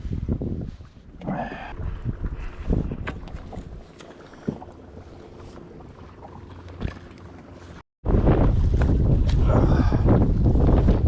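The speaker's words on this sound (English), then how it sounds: "it's a little bit windy now, so I don't know how the audio is going to do" Wind buffets the microphone in rumbling, uneven gusts outdoors at a crappie fishing tournament, briefly cutting out, then returning louder and more blustery near the end.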